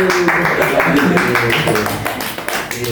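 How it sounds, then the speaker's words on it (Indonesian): A group in an Indonesian group counseling practice session claps hands together, a steady dense patter of claps that stays fairly loud throughout, with voices and some background sound mixed in. "Terima kasih, tepuk tangan dulu."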